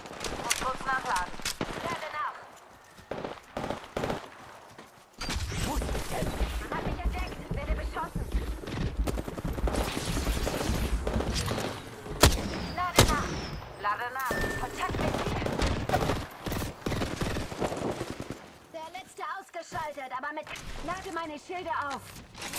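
Rapid automatic gunfire bursts from the Apex Legends video game, dense and loud for long stretches with brief pauses and reload clicks, while in-game voice lines are spoken over it.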